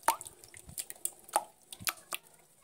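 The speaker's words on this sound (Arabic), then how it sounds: "هبتدي احط الزيت بتاعنا واضرب كده كويس" Oil goes into cake batter in a bowl and is beaten, giving a rapid series of wet, sticky splats and drips at close range, irregular and quick, with no talking.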